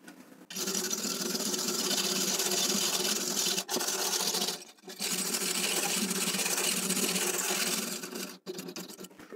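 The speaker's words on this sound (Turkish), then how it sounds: "Brülörlerde tıkanma varsa diye tel fırçayla sürtüyoruz." A wire brush scrubs the burner of a combi boiler in fast, rasping strokes, close and loud, with two brief pauses between bursts.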